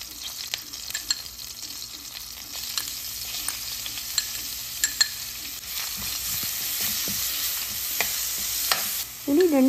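Crushed garlic, ginger and cumin sizzle in hot ghee for a methi chicken curry, a steady close frying hiss with stirring clinks and scrapes throughout and a sharper sizzle burst at the end.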